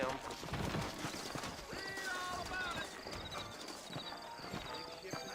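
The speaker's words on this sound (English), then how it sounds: "You ain't gonna find sturdier horses than these in all of New Austin." Horse hooves clip-clop at a steady walking rhythm in the Red Dead Redemption video game, set in New Austin, with game music and a voice over the hoofbeats and an occasional whinny.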